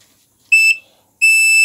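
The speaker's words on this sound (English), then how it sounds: "the interruption will cause the laser to be interrupted and the buzzer will be switched on" Two sharp, high-pitched electronic buzzer tones from a laser security alarm sound in quick succession as the beam is interrupted, the second held longer, with silence between them.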